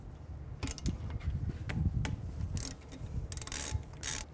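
Ratchet with a 10 millimeter socket loosening bolts on a 2011-2015 Chevy Cruze front hub, giving faint bursts of quick clicking pawl ticks between quieter pauses, close by and without talk.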